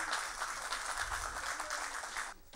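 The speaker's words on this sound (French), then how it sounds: "On applaudit M. Ali Potafa, s'il vous plaît," Applause from a crowd at a commemoration event, a dense patter of clapping held at an even level, then dropping off sharply near the end.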